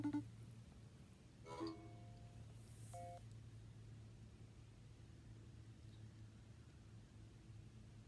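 Short phone dialing tones and beeps from a call placed on a phone, a few brief tones early on over a steady low hum and background noise.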